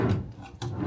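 A hotel room drawer slides open with a short wooden rub and scrape, close and brief.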